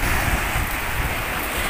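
Water waves rush in a steady, loud wash of surf, mixed with heavy wind buffeting the microphone.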